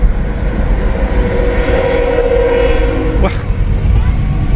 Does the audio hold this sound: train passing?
yes